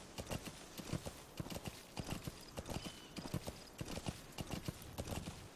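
Horse hooves clip-clop at a steady gallop-like rhythm in Metal Gear Solid V: The Phantom Pain, loud and close, with sharp repeated strikes and no talk over them.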